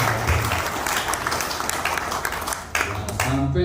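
A community gathering applauds the North Jakarta PMI chapter with steady crowd clapping throughout, a voice talking faintly underneath.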